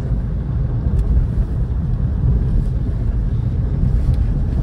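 Opel Astra J accelerating hard at full throttle in third gear, a steady loud low engine roar mixed with heavy wind buffeting on the microphone, continuous throughout with no talk.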